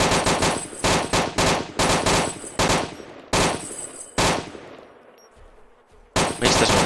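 Gunfire in the video game DayZ, loud bursts of automatic shots in rapid clusters separated by brief pauses, fading to a quiet gap before another close burst at the end.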